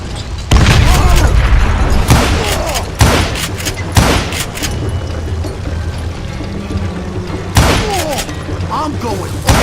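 Gunshots in the video game Gunslinger ring out as loud, sharp repeated blasts scattered throughout, each with a booming tail, over busy game sound and occasional talk.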